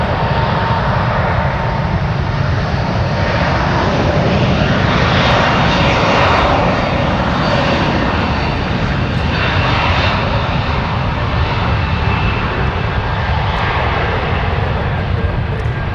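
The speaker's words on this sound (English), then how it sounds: "Very loud JetBlue taking off in front of us on one right, heading to Boston today." A JetBlue jet airliner takes off from runway 1R at San Francisco, its engines a loud, continuous, broadband roar filling the whole stretch at close range with no letup.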